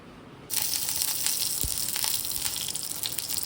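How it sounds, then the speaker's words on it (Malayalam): Two teaspoons of ghee hit a hot cheenachatti pan with a sudden, steady hissing sizzle that starts abruptly and continues evenly. "2 ടീസ്പൂൺ നെയ്യ് നമ്മൾ ചൂടായ ചീനച്ചട്ടിയിലേക്ക് ഇട്ടു"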